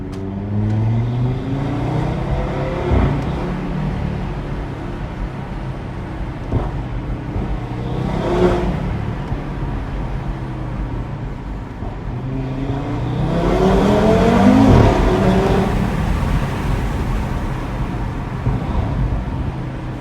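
An Audi TT RS accelerates while driving, its automatic gearbox shifting on its own. The engine note climbs repeatedly with each gear, then drops at the shift, with a louder surge near the end and steady road and wind noise throughout.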